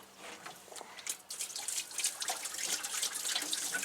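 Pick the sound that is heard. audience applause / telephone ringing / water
water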